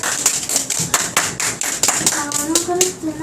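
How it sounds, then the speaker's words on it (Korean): Classroom applause from a group of children, a burst of brisk, rapid hand claps close by, with a few voices rising near the end. "박수다."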